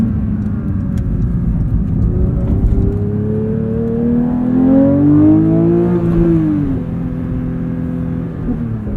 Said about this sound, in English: Play around in track mode with auto rev matching here a bit.